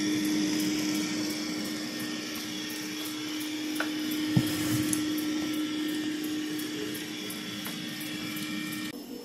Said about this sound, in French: Le X50 évolue au plus près des meubles et la brossette latérale vient ramener toutes les saletés.